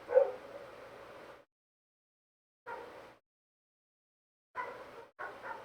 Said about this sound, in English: I hope everybody enjoys the dogs in the background.